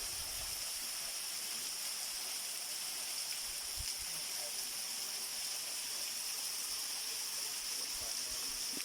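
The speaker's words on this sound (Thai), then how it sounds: "ด้านล่างน้ำตกเป็นงี้นะครับ" A steady, continuous rush of the Pha Rom Yen waterfall in Uthai Thani, Thailand, fills the scene with an even hiss, moderately distant and unchanging throughout.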